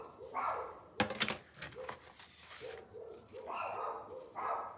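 Several dogs bark indoors in a house, a run of repeated mid-pitched barks at moderate distance, broken by a burst of sharp clattering noise partway through, with no speech.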